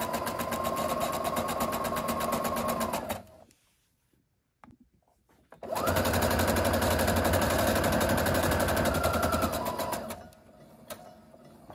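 A sewing machine stitches a graduation stole in two sustained buzzing runs separated by a brief quiet gap, close and steady, with no talking.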